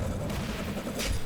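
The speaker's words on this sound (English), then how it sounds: "That's a grenade." A grenade explosion in the video game Dark Sector, a dull booming blast with rumbling debris across a short burst of game noise.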